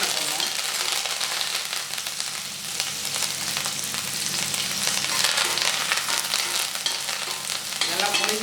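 Curry leaves and green chilies frying in hot oil for a prawn fry, a loud, dense crackling sizzle that runs steadily the whole time, with faint voice-like murmurs beneath.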